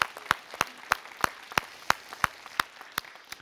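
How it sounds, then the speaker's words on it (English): Church congregation clapping, but sparse: a single pair of hands or a few people giving about a dozen evenly spaced claps in a steady rhythm over quiet room tone. "Yeah, you can clap for that."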